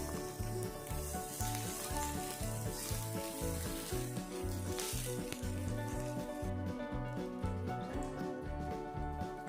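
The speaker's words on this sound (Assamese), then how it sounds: "এতিয়া এইখিনি মই ফ্ৰাই হ'বলৈ দিম" Finely chopped garlic and a medium onion frying in hot oil for street-style veg chowmein, a steady close sizzle with some stirring sounds and no talking.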